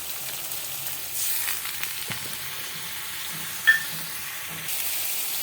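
Masala and ground spices sautéing in a pan, a soft continuous sizzle with light stirring scrapes and a brief clink, swelling slightly midway, no one speaking.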